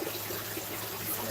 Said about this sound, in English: Stop siphoning out water.